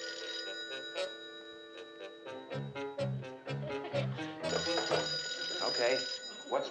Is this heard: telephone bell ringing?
yes